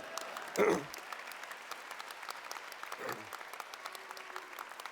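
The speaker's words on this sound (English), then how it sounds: "you can applaud for that. That's worth applauding." Audience applause breaks out during a speech by a governor at Berkeley, a sustained clatter of many hands clapping with a brief louder swell near the start, then steady until the end.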